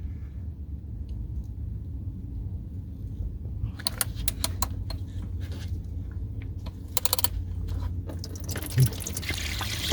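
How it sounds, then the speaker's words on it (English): Engine oil drains from a 2018 Mercedes-Benz S560 into a catch pan during an oil change, a steady close pouring stream with a few faint metallic clinks and no speech. "So now we have all the oil coming out now."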